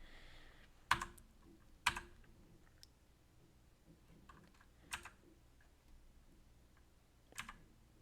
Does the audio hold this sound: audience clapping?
no